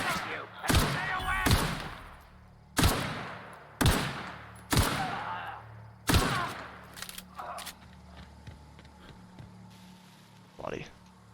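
Gunfire in The Outer Worlds, a series of loud, sharp shots in uneven bursts over the first seven seconds, with a player's voice talking over the action.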